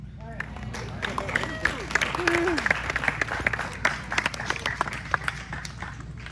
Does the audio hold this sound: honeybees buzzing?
no